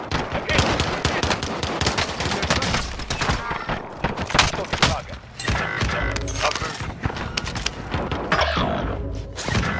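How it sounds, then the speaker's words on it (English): Enemy gunfire in a Call of Duty game, dense and continuous bursts of shots with clattering mechanical noise and thumps, loud throughout under game sounds and some speech. "Hostile shooting."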